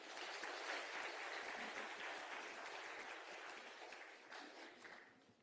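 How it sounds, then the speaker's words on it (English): An audience at the closing ceremony of a national skills competition in Swakopmund claps in a sustained, even round of applause, heard from a distance and fading toward the end. "A final round of applause for them."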